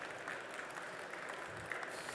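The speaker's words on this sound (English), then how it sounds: "Big applause" Faint, steady applause from an audience at a presentation on hyperspectral imaging technology, a soft even patter of hands with no voices over it.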